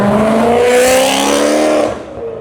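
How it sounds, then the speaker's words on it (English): A V8 engine revs hard close by, a loud throaty roar climbing in pitch, then quickly fading as the car pulls away. "Ooh, that V8 sounds beautiful."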